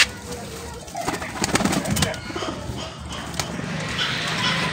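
Saharanpuri naftey zeere pigeons coo and rustle close by, with someone speaking over them and other birds and faint background noise around.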